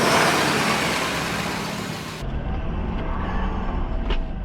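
A Ford Excursion with a 7.3 Powerstroke turbo diesel rolls along, giving a loud, steady engine and road roar heard from close by, with no talk over it.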